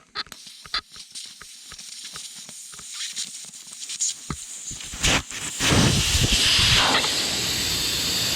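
Air hisses into the valve stem of a Can-Am Outlander XMR 1000R ATV tire, starting with scattered clicks and taps, then building into a loud, steady rushing hiss.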